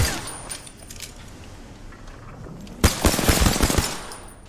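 Gunfire in the video game Apex Legends: after quieter game sounds, a loud burst of rapid automatic shots erupts near the end, close and punchy, with a few scattered clicks before it.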